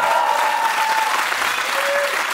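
Dense, steady clapping from a live studio audience at a music quiz show fills the whole stretch, loud and continuous with a faint crowd murmur underneath.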